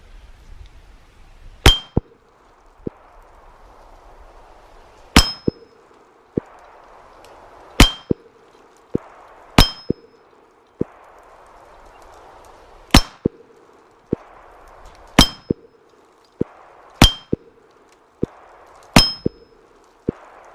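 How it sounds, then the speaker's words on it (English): .380 ACP rounds fired from a Taurus Spectrum pistol strike an AR500 steel target, each hit a sharp metallic clang, about nine ringing impacts at irregular intervals of a few seconds, with distant gunshot thumps and low background noise between them. ".380 shaking that target a little bit more than the 22."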